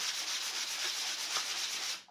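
A continuous, close scratchy rasp of a sanding block rubbed back and forth over wood, with steady even strokes for about two seconds before stopping.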